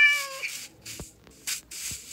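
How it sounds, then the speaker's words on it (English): A cat in Minecraft meows several times, short clear mews spaced apart with faint clicks between them, alone without talk. "Cats, this one's going to be hard to leash."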